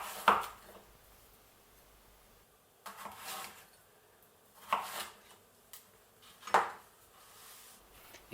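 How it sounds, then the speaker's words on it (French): A kitchen knife cuts celeriac into cubes on a board: four sharp, separate chopping knocks spaced a few seconds apart, close and fairly quiet, with near silence between them. "Avec le céleri rave, on peut le quadriller en morceaux de 3 ou 4 cm aussi"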